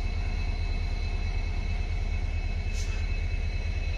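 A WDP4D diesel locomotive idles at a junction station in Kerala, giving a steady low engine rumble with faint tonal whine and a brief hiss near the end, with no talk.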